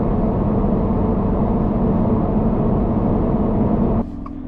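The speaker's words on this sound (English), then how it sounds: "You guys can hear the road noise" Road noise inside a Toyota GR86 on the highway, a loud steady low rumble and broadband roar that drops off abruptly near the end.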